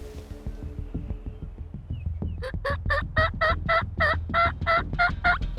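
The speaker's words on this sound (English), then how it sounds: "a gobble cuts through the silence, coming right from where the hen did." A wild turkey gobbles during a Montana hunt, a loud rapid burst of warbling notes rattling out for a few seconds after faint rustling and low background noise, close and clear.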